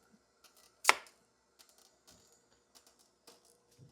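A potato peeler scrapes the skin off a beet with one sharp, clicking stroke followed by faint, scattered short scrapes in a quiet kitchen.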